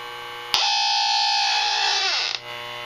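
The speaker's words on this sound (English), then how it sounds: "I just wanted to kind of show the leak detector" A refrigerant leak detector shrieks with a steady, loud electronic tone while probing a Freon leak in the coil of a 2.5-ton air conditioner. The alarm holds for about two seconds, then its pitch sags and it cuts off.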